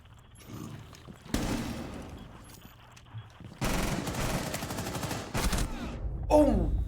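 Hip-fire gunshots in a competitive Rainbow Six Siege match, bursts of video-game gunfire in two or three loud clusters separated by quieter gaps, with a commentator's voice running underneath.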